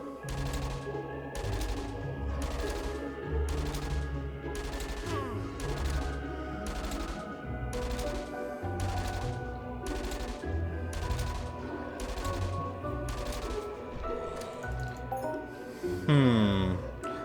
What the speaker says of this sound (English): And shoot the gun.